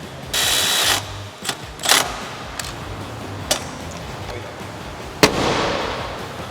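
A hand-cranked ratchet works during an aFe Momentum GT air intake install on a 2020+ Ford Explorer ST, giving a few short mechanical bursts and clicks with gaps between them, close up.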